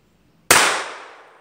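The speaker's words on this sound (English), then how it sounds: "shooting one more time at a metal" A single sharp gunshot at a metal target cracks out loud and close after a moment of silence, its broad burst decaying over about a second.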